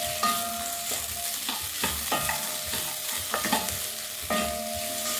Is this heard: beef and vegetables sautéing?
yes